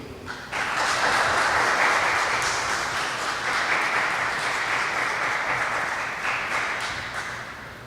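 An audience in an evangelical church breaks into applause: a dense wash of clapping that starts abruptly, holds strong and steady for several seconds, then slowly tapers, with no speech over it.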